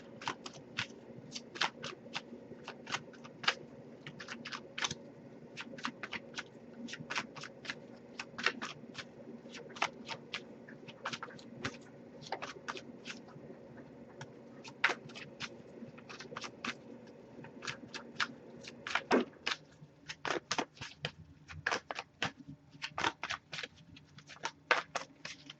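A deck of oracle cards is shuffled close up, producing quiet, repeated crisp riffles and soft slapping taps in an irregular rhythm over a low room hum.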